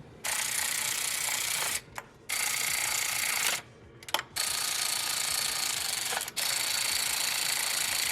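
A ratchet drives in a fuel rail bolt on a BMW N54 engine during a valve cover install, giving long stretches of rapid, steady clicking with a few brief pauses, close and fairly loud.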